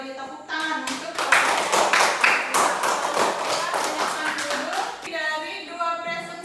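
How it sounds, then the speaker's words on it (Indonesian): A classroom of students claps for a group presentation, a burst of dense, close hand clapping that fades after a few seconds, with speech before and after. "Kalau begitu beri tepuk tangan untuk"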